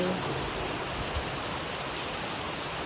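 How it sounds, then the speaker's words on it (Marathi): Rainwater pours from roof eaves in Mangaon, Raigad, hissing loudly with heavier drops splashing nearby, a constant wet wash with no talking. "छान अशी पागोळी पडते"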